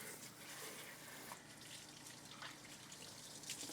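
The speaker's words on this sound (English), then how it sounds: "I'm going to turn on the hot water" Steady running water from a faucet, a continuous broadband hiss with faint splashing, close by and even throughout.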